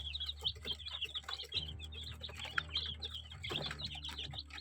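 A crowd of domestic Kuchinsky Jubilee and Barkovsky breed chicks cheep continuously, with high, overlapping peeps close by and a low steady hum underneath.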